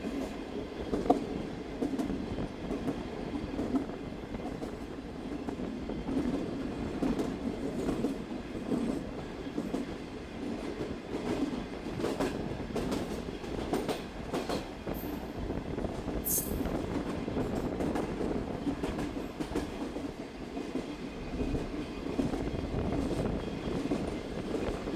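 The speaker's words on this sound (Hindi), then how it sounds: "ट्रेन हमारी अप्रोच कर रही है सम्मासटा जंक्शन" Passenger train, the Bahauddin Zakariya Express between Multan and Rohri, rumbles steadily as it approaches a junction, with continuous rolling wheel noise and clickety-clack throughout.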